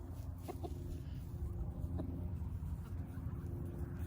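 Turkeys and guinea fowl call in the background, a few sharp clucks and cries rising over a steady low outdoor hum.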